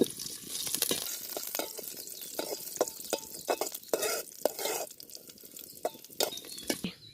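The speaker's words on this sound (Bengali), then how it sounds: "গোটা গরম মশলা কাজু কিশমিশ একটু লাল লাল করে ভেজে নেব" Whole garam masala spices, cashews and raisins fry until lightly reddened in hot ghee for Bengali basanti pulao, with a steady sizzle broken by clinks and scrapes of stirring, no voices.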